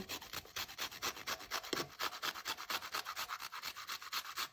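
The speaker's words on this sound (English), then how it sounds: "this habanero pepper, I'm going to zest some in here too" Habanero pepper zested on a grater: a steady run of quick, close rasping strokes in even rhythm, alone with no talk.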